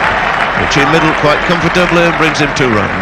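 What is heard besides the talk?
crowd applause at cricket match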